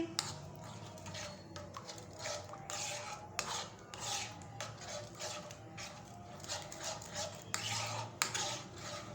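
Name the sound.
stirring tamarind chickpea mixture in a pan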